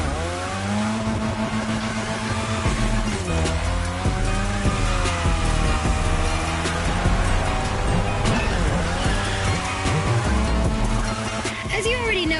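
A car drifting on a drift track in a racing video game, engine revving loudly and continuously with tire squeal layered throughout, under music and a talking voice.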